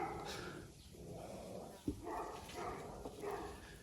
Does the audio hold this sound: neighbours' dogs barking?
yes